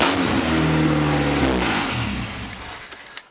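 A Honda Civic EF wagon with a swapped B20 engine revs up loud and close, its pitch climbing and then slowly winding down as the sound fades out.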